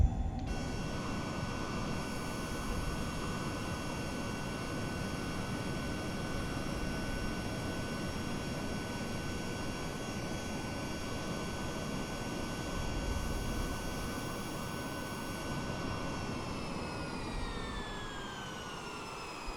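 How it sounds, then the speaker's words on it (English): Departing airliner in Microsoft Flight Simulator on a flight from Shiraz to Dubai, a steady loud jet engine roar and whine held throughout, with the tone gliding downward near the end. "There is a departing airplane."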